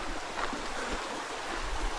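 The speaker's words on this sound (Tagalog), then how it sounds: "Yung mga uh, ah, ah tunog ng mga tubig na umaagos" Steady rushing water flowing over stones, a continuous close-up babble with no pauses.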